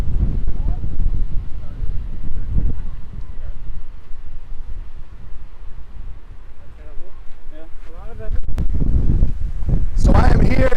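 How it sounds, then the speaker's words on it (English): Strong gusty wind of around 50 miles per hour at Chautauqua Park in Boulder, Colorado, buffeting the microphone with loud low rumbling throughout, swelling toward the end. "It's like 50-mile-per-hour winds up here"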